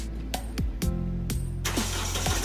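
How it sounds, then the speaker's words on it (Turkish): A car engine cranks in a few short bursts, then catches and settles into a steady running rumble, close by, after a car alarm installation. "Aracımız çalışmaya hazırlanıyor."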